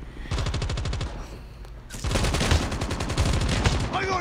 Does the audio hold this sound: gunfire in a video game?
yes